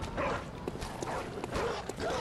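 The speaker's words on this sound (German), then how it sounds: "Da hat mich bemerkt, er bellt mich an" Hostile dog in Bloodborne barking in short repeated yips and woofs at moderate distance, fairly faint amid game ambience.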